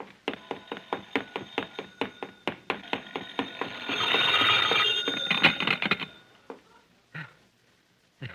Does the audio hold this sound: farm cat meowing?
no